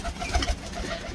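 Soft low cooing from imported Teddy pigeons of Oman bloodline, a couple of muffled throaty coos close by over a faint background hum.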